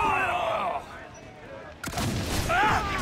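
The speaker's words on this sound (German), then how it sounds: "Den schieße ich noch kaputt." A cannon fires once with a sharp, heavy boom in the Assassin's Creed Black Flag naval battle, jumping in midway through the clip, while someone talks in German before and after the blast.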